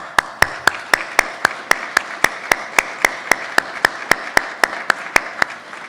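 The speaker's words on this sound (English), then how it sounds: "let's have a round of applause" Clapping at a law school first-year welcoming ceremony in a convocation hall comes as a sharp, evenly spaced series of about twenty claps in steady rhythm, crisp and close, with a faint room echo.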